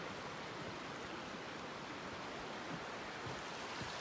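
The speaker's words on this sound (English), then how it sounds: "check out how swollen this creek is" A creek swollen by heavy overnight rain along the Appalachian Trail rushes steadily, giving a dense, even roar of flowing water with no breaks, and no voices are heard over it.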